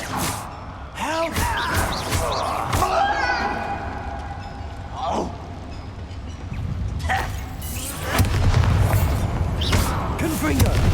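Spell explosions from Bombarda and Confringo in Hogwarts Legacy boom intermittently through a noisy fight, a few heavy blasts with the loudest near the end, mixed with game voices shouting.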